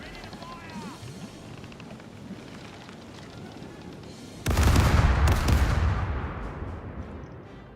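Cannons fire a ship's broadside in the Caribbean Legend video game: after a quiet stretch of ambient noise, a loud booming volley erupts all at once, with a second blast close behind, then rumbles and slowly fades.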